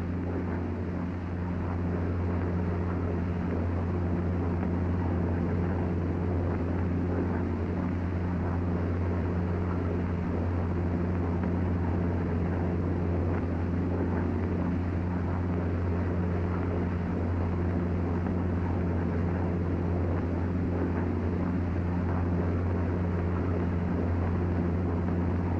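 A P-47 fighter aircraft flies low through high-speed turns, its engine drone holding a steady, loud, continuous roar with no talk.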